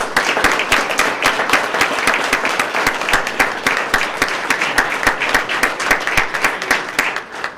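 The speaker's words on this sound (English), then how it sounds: "Let's give the Police Foundation a round of applause." Applause for the Police Foundation at the Sarasota Police swearing-in ceremony, a room of people clapping with sharp, distinct, individual claps in a lively, fairly rhythmic patter, close and steady until it thins at the end.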